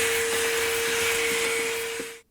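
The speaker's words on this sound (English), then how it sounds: "I'm gonna pick up as much as possible by hand, and then I'm gonna vacuum the rest." A vacuum cleaner runs steadily with a loud, even whine, cleaning up debris from a washing machine clutch repair, then cuts off abruptly at the end.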